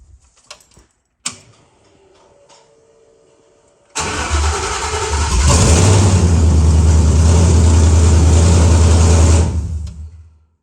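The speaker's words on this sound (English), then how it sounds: "That's the first time this engine has started in this thing with a key." A Ford Bronco engine turns over on the ignition key and catches, then settles into a loud, steady rumbling idle close by. Some clicks come before the crank, and the engine runs for several seconds before it cuts off.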